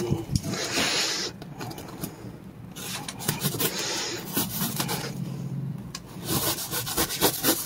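A bevel being cut in duct board gives repeated rough rasping, scraping strokes in uneven bursts, close and fairly loud, with a pause between passes.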